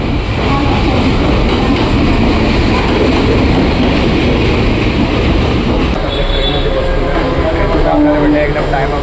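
A train passes close by in Mumbai, a loud sustained rumble of rail wheels with squealing and rattling wagons that fills the whole stretch, with voices faintly underneath.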